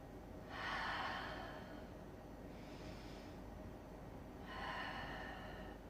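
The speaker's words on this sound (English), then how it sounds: "Just give yourself 5 deep cleansing breaths here." Slow, deep cleansing breaths during a yoga session, three soft airy exhalations spaced a few seconds apart over a quiet room hiss.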